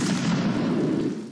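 Massed musket line firing a volley in a Napoleonic Waterloo battle in Mount and Blade, a single dense, rumbling blast that rolls on briefly and fades, with no voices over it.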